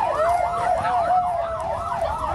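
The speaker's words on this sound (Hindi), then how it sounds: "पूरे इलाके में सायरन की आवाज गूंजने लगी।" An emergency siren wails over a riverside area during a ship fire that spread to nearby slum huts, its loud, continuous rising and falling sweeps cycling steadily with no voices over it.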